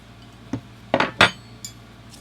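Wrenches from Husky and Craftsman set down on a kitchen scale: a few short, close metallic clinks and clatters, including two louder knocks about a second in, then a faint final tap.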